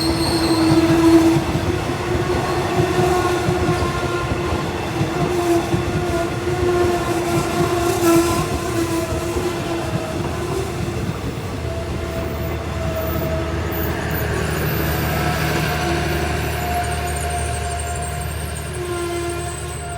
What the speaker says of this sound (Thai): ตอนนี้ขบวนด่วนพิเศษทักษิณารัฐที่ 32 นะครับ ต้องจอด